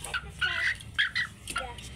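A chicken, a hen about to be slaughtered, clucks and calls in several short, fairly close bursts over a low background hum, with no talking.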